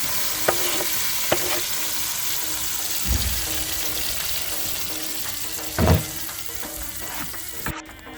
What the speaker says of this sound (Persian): بعد از اینکه پیاز طلایی شد نوبت اضافه کردن گوجه است.